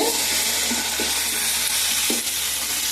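Curry leaves and coriander fry in a hot pan for a home-cooked curry, giving a steady, close sizzle with a few soft stirring scrapes and no talking.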